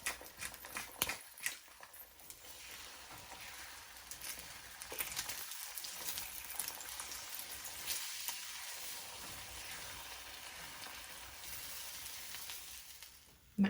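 Eggs sizzling in a skillet, a steady soft crackle and hiss that goes on throughout, with occasional scraping and stirring clicks from a utensil, fairly quiet and close.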